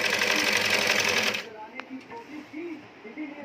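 A sewing machine runs fast and loud, stitching a petticoat, for about a second and a half, then stops; a voice talks quietly afterward.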